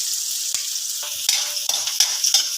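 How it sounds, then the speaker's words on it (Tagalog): Onion and garlic sauté in a hot pan, a steady bright sizzle broken by several scraping stirs of a utensil against the pan, close up and with no talking. "ipaaroma lang natin ng konti ang ating sibuyas at bawang"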